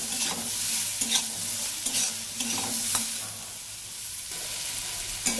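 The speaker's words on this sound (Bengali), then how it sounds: "এবার দিয়ে দেবো ঝিঙাগুলো দিয়ে দেবো, দিয়ে সেম একই রকমভাবে ভেজে নেব" Ridge gourd pieces fry in oil in a pan for a Bengali mixed vegetable dish, giving a steady sizzle broken by repeated stirring and scraping strokes about once a second. The sound is close and continuous, with no voices.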